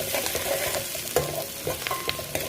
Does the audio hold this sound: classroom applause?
no